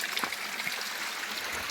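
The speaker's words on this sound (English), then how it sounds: "This is a natural spring water." Natural spring water flowing in Clarendon, a steady close trickle and gurgle with a hissy, continuous wash and no talking.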